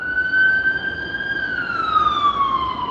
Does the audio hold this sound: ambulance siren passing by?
yes